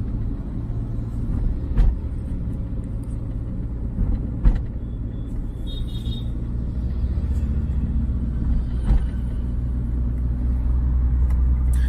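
A car in a driving lesson climbs a hill with steady low engine rumble and road noise, the throttle eased on gently; continuous and close, with a few faint clicks and no talk.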